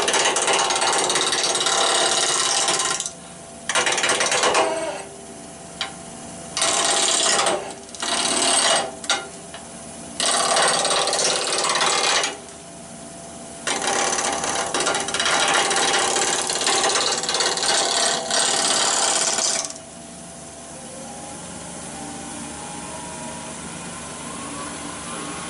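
A rough, knotty yew spindle blank is cut round on a wood lathe, a loud, continuous chattering scrape of the tool on wood that comes in repeated bursts and stops, with the machine's steady hum carrying through the gaps.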